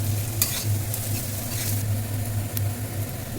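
Onion and green chilli with added turmeric frying in a pan while being stirred: a continuous close sizzle with scraping strokes over a low, humming background.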